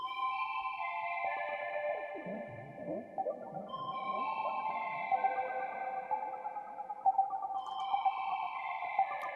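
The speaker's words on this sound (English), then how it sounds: "What was that? Freak echo." An automated freak echo effect in an electronic music track sweeps through repeating, sonar-like tones that swell, smear and trail off into layered echoes, loud and continuous with no talking.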